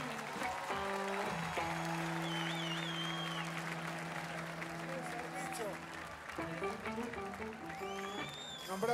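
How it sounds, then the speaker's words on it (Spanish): An audience applauds a band at a live rock concert in Montevideo, a steady wash of clapping under a sustained musical tone and an announcer's voice. "Fuerte aplauso a la banda."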